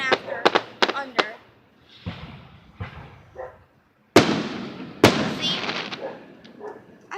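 Fireworks crackle and boom in a series of sharp bursts, several loud close blasts with crackling tails, while people talk and exclaim between the explosions.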